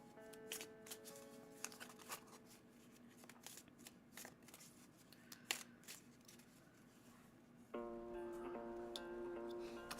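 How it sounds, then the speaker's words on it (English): Yu-Gi-Oh cards are shuffled by hand in a quiet room, with a steady run of soft riffling and flicking close by, and a faint sustained tone joining in near the end. "let's shuffle these and see what we get for your Yu-Gi-Oh cards"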